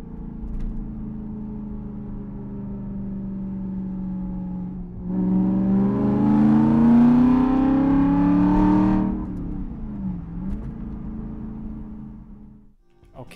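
Car engine under gear shifts with the clutch: a steady idle-like hum swells into a revving climb, then the revs sag and drop away as the clutch is pressed, heard close with no talking.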